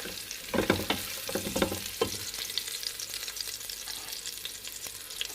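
Green chili and onion sauté in a pan for chicken chow mein, a quiet continuous sizzle with a few stirring scrapes and clicks early on.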